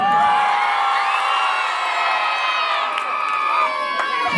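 A crowd at a Hindu devotional Jagran for Mata Rani erupts in loud, sustained cheering, whooping and high-pitched shouting, many voices overlapping close by in one continuous roar.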